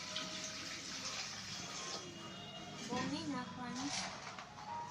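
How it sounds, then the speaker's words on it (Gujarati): Water runs and splashes into a metal pressure cooker in a steady stream while someone talks over it. "તો કુકરમાં નાખે છે પાણી"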